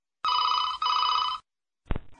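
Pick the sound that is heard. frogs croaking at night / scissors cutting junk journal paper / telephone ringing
telephone ringing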